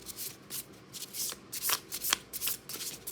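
Oracle cards are shuffled by hand in short, crisp bursts of riffling and slapping, close and clear, with brief pauses between handfuls.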